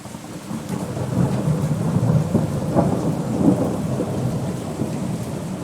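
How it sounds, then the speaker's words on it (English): A thunderstorm rolls in with a continuous wash of rain and low, rumbling thunder building underneath, loud and steady with no voices. "The storm's starting to roll in."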